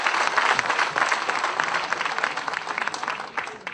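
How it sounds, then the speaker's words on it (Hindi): Loud applause from a crowd welcoming a guest at a Rajput community gathering, dense and energetic clapping that surges at the start and continues with uneven swells before tapering. "जोरदार तालियों से इनका जो है दोस्तों स्वागत होना चाहिए"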